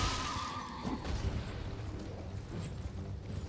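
A shrouded horse in the video game Elden Ring lets out a short neigh near the start, followed by low rumbling game effects and a few dull impacts.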